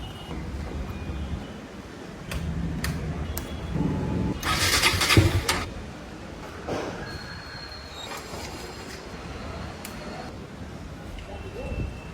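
A motor vehicle's engine cranks repeatedly but fails to start after refuelling, its display dead. There are bursts of starter whirring and grinding with a louder surge in the middle, while people talk nearby throughout.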